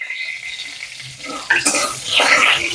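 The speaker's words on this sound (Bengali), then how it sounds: "তেলের মধ্যে 5 ফোড়ন দিয়ে দিলাম" Panch phoron five-spice hitting hot oil in a home kitchen, quiet at first, then a sudden bright crackle and spitting sizzle that swells near the end, close up.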